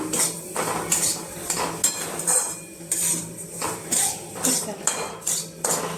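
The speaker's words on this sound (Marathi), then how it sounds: "त्यात मी हा एक वाटी रवा घेतलेला आहे तो घालून घेणार आहे छान असा आपण हा भाजून घेऊया" Semolina roasting in hot ghee while being stirred in a pan, with repeated close metallic scrapes and clinks of a spoon against the pan at a steady rhythm, and no talk.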